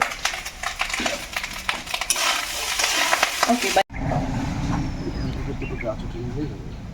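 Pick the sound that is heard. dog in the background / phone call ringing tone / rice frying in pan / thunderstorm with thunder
rice frying in pan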